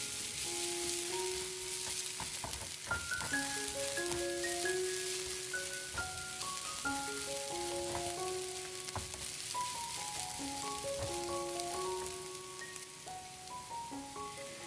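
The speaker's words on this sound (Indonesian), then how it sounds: "Langsung saja kita tumis semua bumbunya, bawang putih, cabai, dan daun bawang." Steady sizzling of garlic, chili and scallions stir-frying in hot oil, with occasional stirring scrapes, while soft background music plays throughout.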